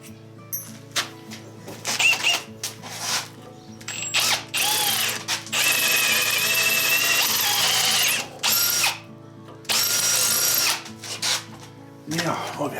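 A power drill with a blunt bit whirs in repeated bursts, starting and stopping several times with clicking mechanical sounds between runs.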